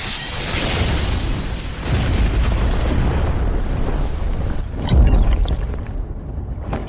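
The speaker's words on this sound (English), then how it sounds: "Explode." An explosion effect in an audio drama: a deep, rolling rumble sustains for several seconds and peaks in a heavier boom near the end before thinning out, with no voices over it.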